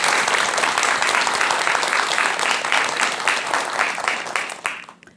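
An audience at a Buddhist lecture gives loud, energetic applause to welcome a monk to the stage, with rhythmic clapping that stays dense before quickly dying away at the end.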